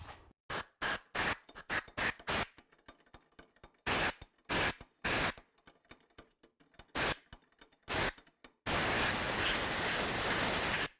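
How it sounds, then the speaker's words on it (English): Compressed air blasts into an RCBS Uniflow III bench powder measure as a string of short, sharp hissing bursts with brief pauses, then one sustained loud hiss to finish. "work that through with a little compressed air"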